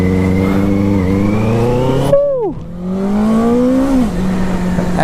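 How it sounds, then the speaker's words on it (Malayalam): A Benelli 600i, a 600cc inline-four motorcycle, revs loudly up close: its engine note climbs, snaps down sharply as the throttle is released, then builds again into a smooth rising howl. "ഒരു 600cc ആണെച്ചാലും ഒരു 1000cc ഒക്കെ പോലെ തന്നെയാണ് ഈ ഒരു ബൈക്കിൻ്റെ സൗണ്ട് എന്ന് പറയുന്നത്."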